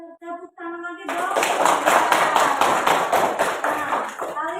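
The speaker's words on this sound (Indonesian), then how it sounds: "Tepuk tangan lagi dong" A classroom full of students clapping steadily for several seconds, dense and fairly loud, after a brief bit of voice at the start.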